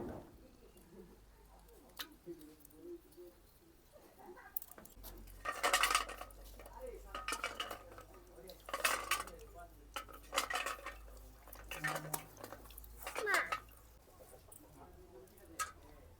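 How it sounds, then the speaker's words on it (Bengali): Small clay lamps are washed in water, knocking and clinking against each other and a container in uneven clusters, fairly faint and close, with a quiet stretch at the start. "এখন ভালো করে ধুয়ে নেব"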